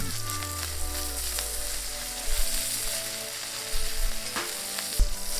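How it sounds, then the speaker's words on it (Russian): Steady frying sizzle of butter and ribeye steak in a hot pan, continuous and fairly loud, with a few soft clanks and stirring bumps along the way. "а другую кинуть прямо в сковороду."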